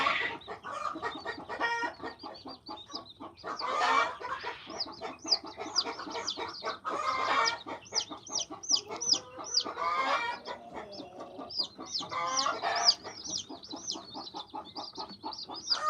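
Chickens clucking repeatedly nearby, a small Easter Egger rooster's short calls mixed with a hen-like chorus, steady and fairly close.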